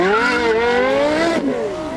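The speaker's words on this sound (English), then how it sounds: "Watch out, here comes the LFA." Lexus LFA launching in a drag race against a Porsche Carrera GT, a loud close engine scream with rising harmonic pitch as it accelerates through the gears, a brief shift dip midway, no talk.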